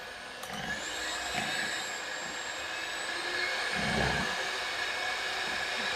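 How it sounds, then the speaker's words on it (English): An electric whisk beating butter and sugar for a cake, a continuous close motor whine with a steady pitch and occasional low knocks as the beaters hit the bowl, no talking. "So now the butter and the sugar have nicely got whisked."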